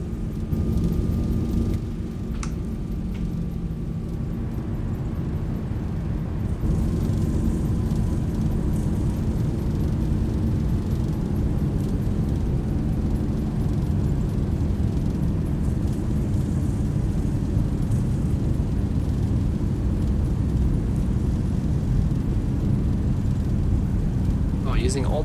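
A ZIBO Boeing 737-800 in X-Plane 11 roars under reverse thrust on its landing roll, a loud steady engine rumble lasting throughout with a faint high whine sliding slowly downward.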